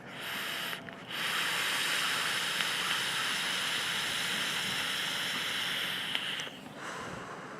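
A long, steady hissing exhale of vapor rushes close by for several seconds after a brief pause, with no talking.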